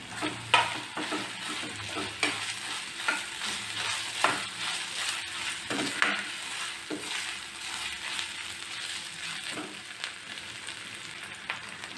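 Curry leaves and five lengthwise-slit green chillies sizzle in a hot pan for a chicken fry, with a steady crackling hiss and periodic scraping stirs, close and alone.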